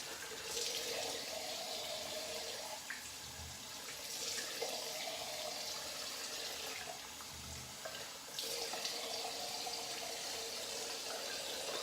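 Tap water runs steadily and loudly into a sink while shaving soap is rinsed off during wet shaving, a continuous close rush with slight shifts in the flow as hands move under the stream.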